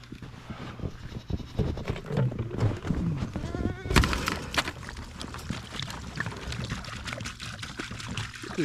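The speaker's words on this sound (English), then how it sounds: "we'll just have to fill their ice bowl up with water." Water pours and trickles into an ice bowl for a group of goats on a frozen farm during an arctic cold snap, with splashing and clatter while goats bleat in the background.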